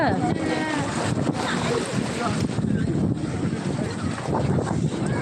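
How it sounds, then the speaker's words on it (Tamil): Large sea waves roll in at Kanyakumari beach, a broad continuous roar of surf and wind noise on the microphone, with people talking over it. "அலை ஒவ்வொன்றும் ரொம்ப பெருசு ஆமாம் அங்கே பாருங்க ஒரு பெரிய அலை ஒன்று வருது"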